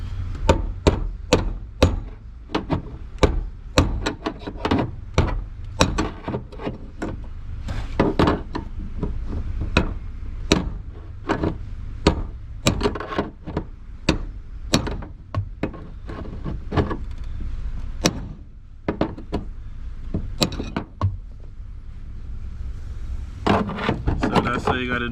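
Repeated sharp metallic hammer knocks ring out in an uneven rhythm as a fuel pump lock ring on a Nissan Sentra is knocked around, dozens of close, loud strikes with a short pause near the end.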